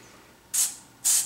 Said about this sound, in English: It's probably spraying around 15 to 20 PSI.